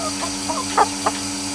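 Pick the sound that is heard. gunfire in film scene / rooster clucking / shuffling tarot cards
rooster clucking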